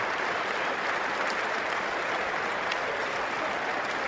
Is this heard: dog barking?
no